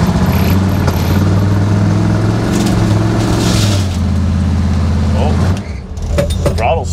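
A Chevrolet Biscayne hot rod engine with a slight miss roars at high revs with its throttle stuck open, a loud sustained drone that cuts off abruptly near the end, with voices heard over it.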